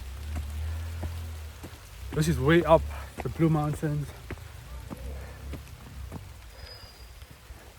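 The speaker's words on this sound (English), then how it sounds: "And here comes the rain." Heavy rain pours steadily on a hillside trail in Jamaica's Blue Mountains, a dense hiss throughout with someone speaking over it for a few seconds in the middle.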